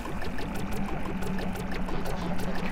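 A steady stream of water sprays and splashes continuously in a video game, washing off gloop, with a rushing, hissy texture that holds up close throughout.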